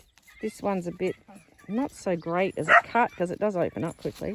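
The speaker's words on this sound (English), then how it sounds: "Oh man, the dog. I apologise for the dog." A dog barks repeatedly at a January flower farm, sharp yips mixed in with someone talking nearby, the barks fairly close and cutting across his speech.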